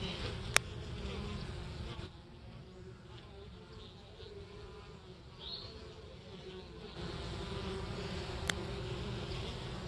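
Steady buzzing of honey bees close by in January in Mississippi, a continuous hum with a few sharper passes, no voices.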